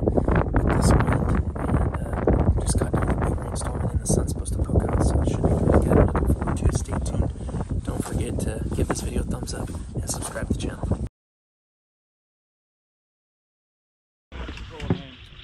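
Strong south wind blows outdoors during a duck hunt, roaring steadily with voices over it for most of the stretch, then cutting out briefly before gusting back in.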